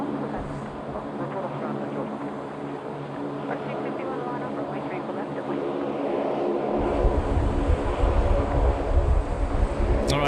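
An AirAsia airliner rolls for takeoff at Sydney Airport, a broad steady engine roar heard from a distance that swells and deepens about two-thirds of the way through.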